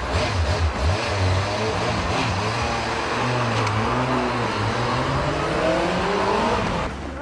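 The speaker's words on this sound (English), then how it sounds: "This is a very, very powerful motorcycle." A Yamaha R1 motorcycle engine roars loudly and steadily while accelerating, its pitch rising and falling as it revs, with broadband rumble throughout and no voices.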